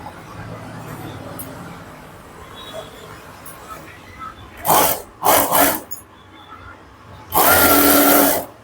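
A sewing machine runs in short bursts while a puff sleeve is stitched onto a ready-made dress, two quick stitching spurts and then a longer steady run, loud and close over a quiet room.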